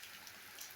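Rain falls steadily in a village, a faint, even hiss of drops spread across the whole moment with no distinct individual splashes.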